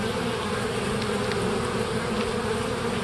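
Dense swarm of bees droning steadily at a hive fitted with a pollen trap, a continuous close buzz with no pauses and no voices.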